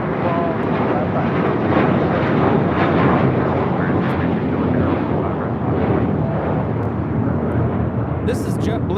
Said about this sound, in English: This is JetBlue 1388 taking off to Boston on an A321.